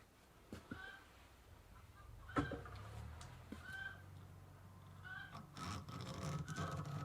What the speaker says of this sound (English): There's a mad chicken outside the barn.